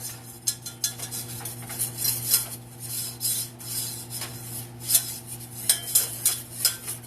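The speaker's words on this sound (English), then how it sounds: "So stir it till it looks like wet sand." A flour and butter mixture stirred in a pan, taken off the heat, gives repeated scraping and clinking of a utensil against metal in uneven strokes, close and fairly loud, with no talking.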